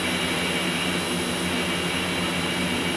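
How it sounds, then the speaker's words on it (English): Steady, loud airplane engine drone from a plane in Grand Theft Auto San Andreas, a continuous broadband roar with a low engine hum that holds evenly throughout. "Where should I park the plane?"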